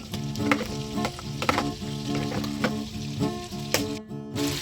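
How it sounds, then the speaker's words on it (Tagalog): Chicken frying in a pan crackles and sizzles steadily, with frequent sharp pops and spits spread across the whole stretch over a constant hiss. "So we just cook our chicken guys on both sides and until our chicken is fully cooked"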